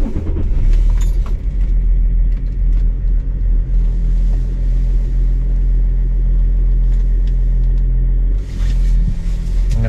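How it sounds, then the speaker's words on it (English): Range Rover L322 engine running after being started, a steady low rumbling idle with faint mechanical ticks and light rattles close by, with no talking. "why don't we just start the car and see what happens"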